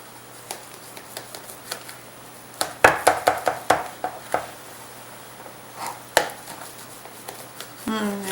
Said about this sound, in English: Now I want to cut them up while they're still warm.